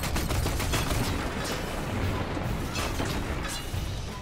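Gunfire in the video game Destiny 2, a dense, continuous barrage of loud shots and booming impacts with no pauses across the whole span.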